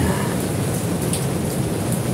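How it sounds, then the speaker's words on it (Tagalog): Heavy rain pouring on a house, falling both inside through the roof and outside, a dense, steady hiss of drops that stays loud and even throughout with no one talking. "Umuulan sa loob. Umuulan sa labas."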